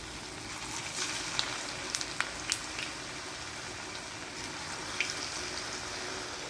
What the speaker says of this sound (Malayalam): നമ്മൾക്ക് ഇതിലോട്ട് പത്തിരി ഇട്ട് വറുത്തെടുക്കാം